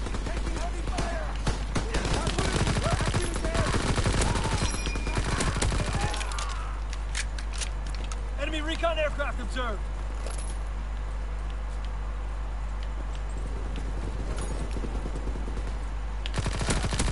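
Rapid machine gun fire in Call of Duty WW2 multiplayer, a dense continuous rattle of shots for several seconds, then a quieter stretch with a voice, before firing resumes at the end.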